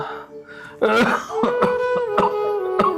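Several harsh coughs burst out one after another over a low, steady background, loud and close, with a brief hum before the first one.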